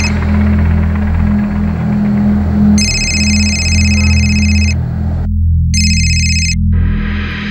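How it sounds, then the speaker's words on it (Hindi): A landline telephone rings on unanswered in two long electronic bursts with a pause between them, heard over a steady low hum and room noise with no talk. "लैंडलाइन पे भी फोन किया था, सिर्फ रिंग बज रही है, कोई उठा ही नहीं रहा"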